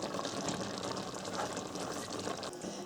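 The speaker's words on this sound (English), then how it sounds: "And I added 1 more cup of water" Water pours into a pot of beef and broccoli, a steady splashing gush that runs continuously for a few seconds without any talking.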